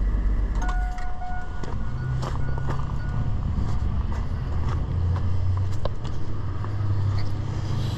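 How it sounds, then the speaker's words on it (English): A 2002 Chevy S10 with a 4.3L engine idling rough from a dead misfire, a steady low rumble with an uneven, stumbling beat and faint mechanical ticks, heard close with no talking. "it's definitely not running very good because it's got a dead misfire"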